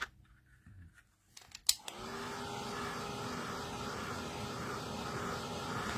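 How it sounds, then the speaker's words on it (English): Craft heat tool blasting hot air across a daffodil greeting card, a steady loud whooshing roar starting after a couple of seconds of quiet handling noises and continuing unbroken. "And then I'll give that a blast with the heat tool as well."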